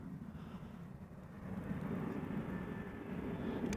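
An ITA Airways airliner arriving from Milan rumbles in the distance at Amsterdam Schiphol Airport, a faint, broad engine roar that swells slightly and holds steady.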